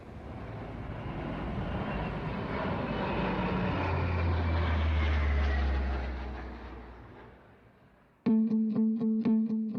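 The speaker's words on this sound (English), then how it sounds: "this thing flying over your house at that speed with 2 engines, and they got 4-bladed propellers on them" A low-flying twin-engine plane with four-bladed propellers drones loudly overhead, its roar swelling and fading for about eight seconds before a sharp, pulsing tonal sound cuts in abruptly.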